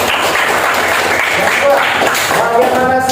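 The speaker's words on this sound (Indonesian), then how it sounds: "Oke, tepuk tangan untuk Husna." Classroom applause during a biology lesson on the human muscular system, a burst of students clapping together with voices mixed in, fairly loud and continuous.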